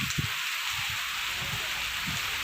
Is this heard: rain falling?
yes